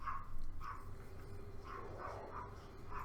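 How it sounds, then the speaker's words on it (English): Dogs barking outside, a series of muffled, distant barks and yips repeating irregularly over low room hum. "Sorry about the dogs barking outside."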